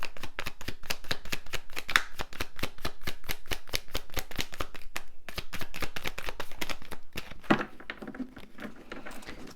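Tarot cards shuffled by hand in a steady rapid riffle of crisp papery slaps, close and moderately quiet, pausing briefly before a final softer rustle.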